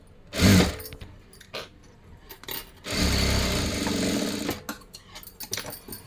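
A sewing machine stitches a boat-neck, princess-cut blouse: a few short, sharp bursts, then a steady, close whirring run of about two seconds that trails off into brief stops and starts.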